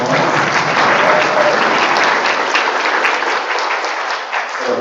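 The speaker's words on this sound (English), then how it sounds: "Please join me in giving Darren a quick round of applause." Audience at an online-learning conference gives a loud, even round of applause, many hands clapping steadily for a few seconds before tapering slightly.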